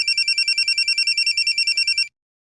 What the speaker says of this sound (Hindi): कुछ देर बाद ही अशोक लाल का फोन आया और साधना ने कॉल पिक किया।